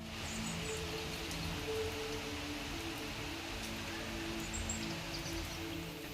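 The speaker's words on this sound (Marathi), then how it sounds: "कंटिन्यू पाऊस चालू आहे बाहेर पाऊस आहे" Continuous rain falls outside as a steady, soft hiss, with faint bird chirps now and then in the background.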